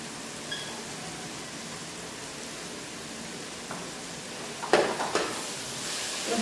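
Spice masala with salt and turmeric sizzles steadily in a pan for a Bengali fish curry, a continuous soft frying hiss with a few clinks and scrapes of stirring near the end.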